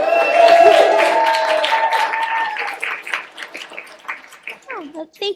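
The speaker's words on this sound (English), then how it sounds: "You don't have to clap." Comedy club audience at a live stand-up show clapping, a dense burst of applause at the start that thins into scattered claps and fades, with a speaking voice over it.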